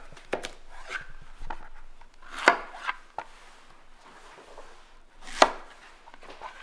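A knife chops through yellow squash on a cutting board, quartering it with a few sharp, separate cuts: two stronger thunks stand out among lighter taps, close and clear with no talk.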